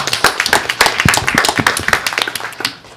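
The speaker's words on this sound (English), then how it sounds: "I think we should give the governor a round of applause." An audience at a school board of trustees meeting claps for the governor, a short burst of brisk, dense hand clapping that fades out near the end.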